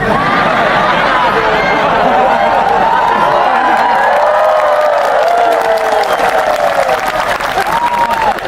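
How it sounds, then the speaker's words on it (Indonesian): A sermon audience breaks into loud, continuous clapping at a humorous Islamic religious talk, with the clapping thick and mixed with laughing and overlapping voices from the crowd. "Kenapa kau tepuk tangan?"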